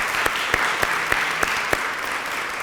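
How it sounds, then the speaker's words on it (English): Audience applause at a history talk on girlhood embroidery samplers, a room of people clapping together, dense and even, with a few sharp louder claps standing out up close. "Can we have a round of applause for those folks?"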